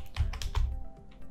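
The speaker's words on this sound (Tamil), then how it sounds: "பட் நான் எல்லாமே வந்து கோட் டைப் பண்ண போகிறேன்." Computer keyboard typing while code is entered for a Bootstrap register form, a quick close burst of clicky keystrokes that thins out and stops, with no talk.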